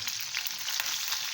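A tadka of butter, oil, garlic, green chillies and red chillies sizzles in a pan while dal is cooked, a close, steady crackling hiss with small pops and occasional stirring.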